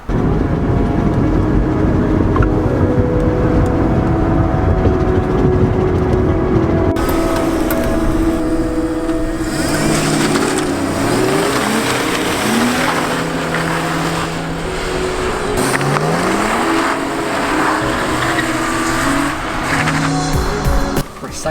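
BMW E36 drift car out on a test run, its engine revving hard and rising and falling through the gears, with repeated tire squeal and skidding, loud and continuous throughout.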